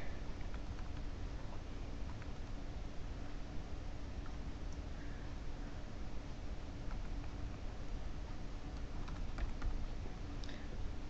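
Typing on a computer keyboard, a steady run of light clicks over a constant background hiss, with no talking.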